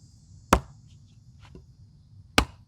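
A hatchet chopping red oak wood outdoors, two sharp, isolated strikes about two seconds apart against a quiet background with faint insect buzz.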